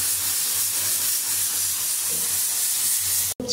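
A pressure cooker of matar dal lets off a sustained steamy whistle-hiss, loud and continuous, ending in a sudden brief cutoff near the close; no one speaks.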